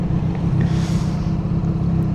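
A Triumph Street Triple 765R with an SC Project exhaust holds a loud, dense, low engine roar close by. The roar is steady and thick throughout, with a brief airy swell partway through.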